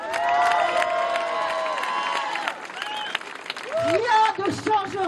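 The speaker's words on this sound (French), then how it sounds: "On peut les applaudir encore plus fort." Crowd at an anti-far-right rally in Auxerre applauding steadily, a dense wash of clapping with some cheering over a loud public-address voice, the applause continuing under the speech.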